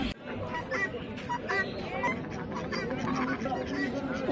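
Chickens and ducklings in a village market, with fowl calls and squawks mixed into a busy crowd babble and nearby talk, moderately loud throughout.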